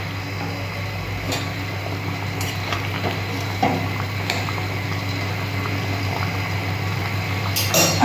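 Curry gravy with ridge gourd fritters boiling in a pot, a constant dense bubbling hiss with small pops and occasional faint clicks throughout, no voices.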